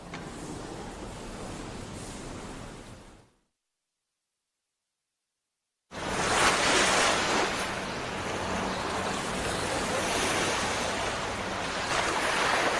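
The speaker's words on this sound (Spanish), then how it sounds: "Siria se asoma al mar con placidez y serenidad." Mediterranean sea waves roll against the shore at Latakia, Syria, a loud continuous wash of surf with wind, broken by a brief gap of silence before the roar resumes.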